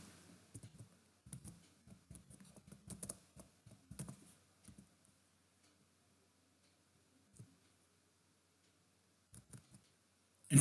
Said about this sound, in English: I type here manually